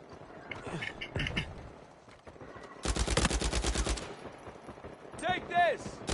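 Gunfire rattles during an Uncharted 4 team deathmatch, a fast automatic burst of shots in the middle, with scattered game sounds and someone talking around it.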